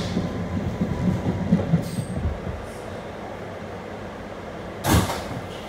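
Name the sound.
R211 subway shuttle train running on rails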